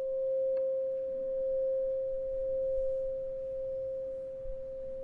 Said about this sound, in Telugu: పాత్రలో పుల్లతో రాపిడి కలుగజేస్తే ఆ శబ్ద తరంగాలు విచ్ఛిన్నమై వాటి శబ్దం పెరుగుతుంది